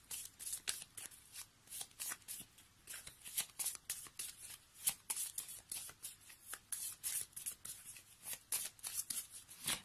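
Oracle cards are shuffled by hand in quick repeated riffles and slaps, crisp and close, coming in irregular bursts over a quiet background with no talking.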